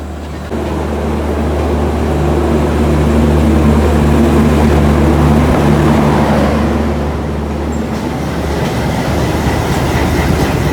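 The 12167 LTT–Banaras superfast express running, with a loud, steady rumble of wheels and a low mechanical drone heard from inside the coach for several seconds.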